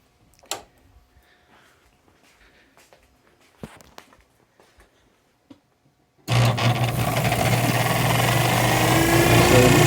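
Quiet room with faint ticks and scattered small clicks gives way midway to an electric motor starting up. It then runs on as a loud, steady whirring hum with a constant tone until the end.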